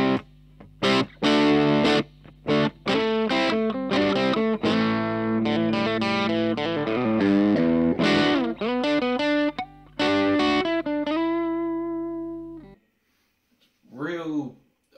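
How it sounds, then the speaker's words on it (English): Electric guitar on the bridge humbucker through a Danelectro FAB Distortion pedal, playing a run of distorted chords and single notes with choppy stops, then a sustained ringing chord that cuts off, followed by a brief phrase. "Now let's look at the Fab Distortion. Let's see how this sounds. We're gonna stick on the bridge humbucker"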